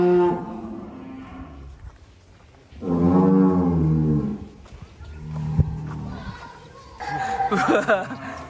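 Brahman cross cattle give several deep, drawn-out moos, each lasting a second or more, loud and close, with quieter pauses and background noise between the calls.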